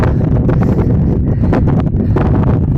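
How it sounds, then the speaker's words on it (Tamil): Cold winter wind buffets the microphone during a ride on a Hercules Dynamite ZX bicycle, a loud, continuous rumbling roar with gusty fluctuations. "காற்று வந்து குளிர் காற்று அடிக்குது"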